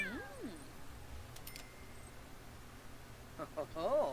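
A hairless sphynx cat in The Sims 4 gives two short, wavering meows, one at the start and one at the end, with a quiet stretch in between.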